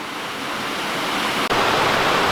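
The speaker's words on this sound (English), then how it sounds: "So that water rushes down that column, rushes into a tube, turns the turbine here at the bottom" Water rushes down the shaft of a grist mill in the Great Smoky Mountains toward the turbine below, a steady dense close roar that holds constant apart from a brief dip.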